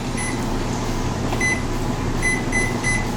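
Several short electronic beeps ring out over the steady hum of a running appliance, like buttons pressed on a timer panel.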